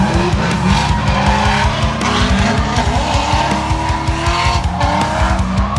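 Drift cars slide through a lead and follow run at a drift competition at a mansion, one with a 427 blueprinted engine, with loud continuous tire squeal, roaring engines and rapid rev pulses throughout.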